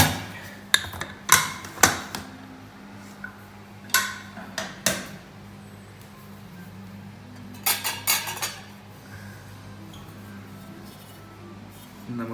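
A pot of Thalassery-style Kerala beef dum biryani is opened with scattered metallic clanks of lid and utensils against the pot. The sharp clatters come in small clusters with quiet gaps between them.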